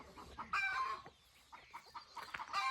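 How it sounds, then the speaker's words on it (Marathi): Chickens cluck and roosters crow on a farm in the morning, several close calls rising and falling in quick succession against a quiet background. "कोंबड्यांनी मित्रांनो भरपूर काला उठवलाय आज"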